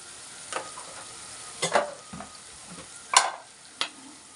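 Brinjal and egg curry masala being stirred in a pan, with a few separate scraping, sizzling strokes spaced across a quiet background.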